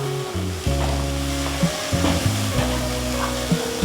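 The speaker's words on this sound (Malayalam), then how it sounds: "നമ്മൾ കട്ട് ചെയ്തിട്ടുള്ള ക്യാബേജ് ഇട്ട് കൊടുത്ത് നന്നായി ഒന്ന് ഇളക്കുക." Chopped cabbage is stirred into hot masala in a pan for a cabbage kurma curry, giving a steady close sizzle with a few scraping stirs of the spoon, heard alone without talking.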